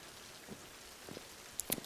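Rain falling through a broken-down city in the video game Her World, a soft, steady patter with a few sharper drops landing close by, quiet and without any voices.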